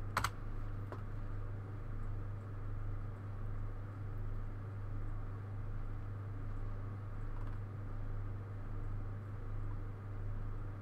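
Steady typing on a computer keyboard, quick soft clicks running continuously at low level over a constant electrical hum, with no talking.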